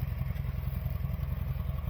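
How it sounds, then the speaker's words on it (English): A farm tractor's engine runs with a steady, pulsing low throb and loose clatter, close and continuous with no voices. "Oh, Trey's driving the tractor."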